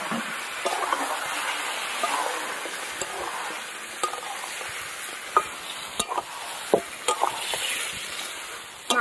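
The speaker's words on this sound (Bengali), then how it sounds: "এবার এখানে কেটে রাখা মাংস দিয়ে দেবো।" Chopped chicken hits hot fried spice paste in a pan and sizzles, a steady close frying hiss with scattered scrapes and clinks of stirring, no talk.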